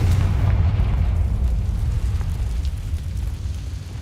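A Confringo blasting spell cast in Hogwarts Legacy, a loud, low, rumbling explosion that swells at once and then slowly fades over a few seconds, with no talking.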